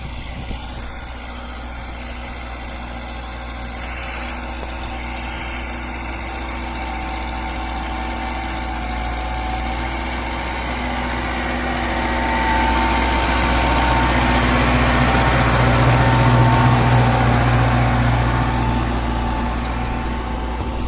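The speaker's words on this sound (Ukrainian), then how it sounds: "трактор МТЗ 826" An MTZ 826 tractor engine runs steadily with a low, throbbing drone that grows gradually louder toward the end, no voices present.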